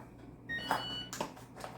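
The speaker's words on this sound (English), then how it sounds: "as you can hear, the oven's ready" A kitchen oven signals it has finished preheating with a couple of faint electronic beeps, heard over quiet background hum while pasta boils.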